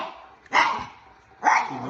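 A pet dog barks twice at a political figure on a screen. Two loud, sharp barks come close to the mic about a second apart, each trailing off into a low growl.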